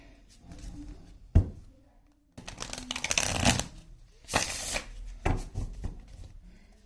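Tarot cards being shuffled in bursts of crisp riffling and slapping, with short pauses and a sharp tap between, close and fairly quiet with no talking.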